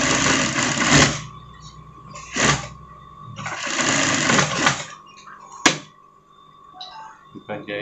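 A sewing machine stitches a Doraemon-style pocket onto a sweater in three close, loud runs separated by pauses, with clicks and handling sounds in between.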